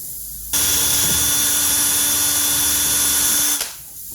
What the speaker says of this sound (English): so we need to drill a hole right there.